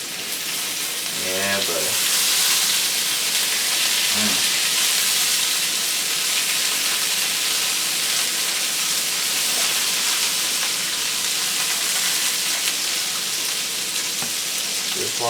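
Rainbow trout fillets fry in a pan as lemon juice is squeezed over them, giving a loud, steady, broadband sizzle that carries on throughout, with a brief spoken exclamation near the start.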